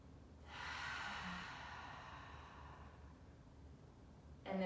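During a seniors' yoga session, one slow, deep breath is drawn in and let out as a soft, airy hiss lasting a few seconds. It is close and quiet, with no talking.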